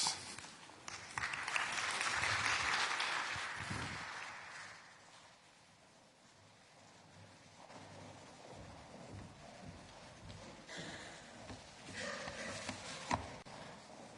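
Applause from the audience at an EU and UN conference on the humanitarian situation in Gaza, a swell of clapping that fades into quieter room noise and scattered claps, heard from a distance and fairly faint.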